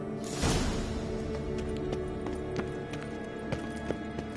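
Horse hooves clip-clopping in The Witcher 3, a whooshing swell at the start followed by light, fairly evenly spaced hoof knocks under a faint ambient game bed.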